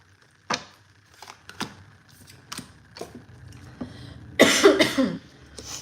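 A few short, dry coughs spaced apart, followed by a louder, rougher burst of coughing near the end, close to the microphone.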